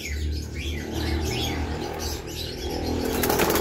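Racing pigeons returning to a loft at the end of a race from Casiguran, Sorsogon, with close wing flapping and fluttering over steady outdoor noise, a few faint chirps, and a sharper burst of flapping near the end.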